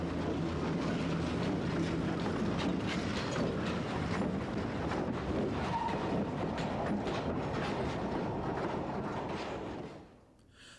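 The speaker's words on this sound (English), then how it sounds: "as it heads this mixed train of auto racks and general merchandise over the Potomac River" Mixed freight train of auto racks and general merchandise hauled by two diesel locomotives, including a GP30M, crossing a bridge over the Potomac River; a loud, steady rumble of rolling wagons and wheels runs throughout, fading sharply at the very end.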